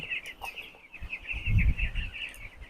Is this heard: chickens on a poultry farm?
yes